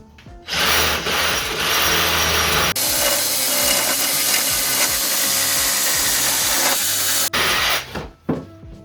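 A power tool cuts through the branches of a makeshift indoor Christmas tree. The whine is loud, close and continuous, with a change in pitch partway through and a short clatter as it stops.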